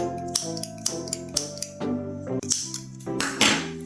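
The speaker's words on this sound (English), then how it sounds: "I just cut the yarn in front of me" Scissors snip through crochet yarn several times in quick succession, each sharp close cut standing out over a soft tonal hum in a quiet room.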